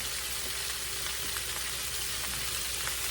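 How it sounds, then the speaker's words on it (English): Cabbage tossed into hot bacon grease in a skillet for pork chops and cabbage, giving a steady, dense sizzle of frying that runs evenly throughout at close range with no talking. "go ahead and toss my cabbage in that grease and get it coated in it"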